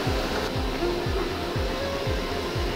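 A CNC machine cuts a dimple into a part. A steady mechanical whir and hiss runs throughout, with a low pulse that repeats about every half second, close and even, with no talking.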